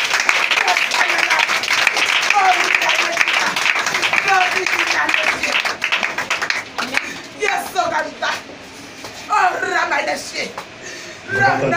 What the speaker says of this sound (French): Est-ce que tu peux acclamer le roi des rois?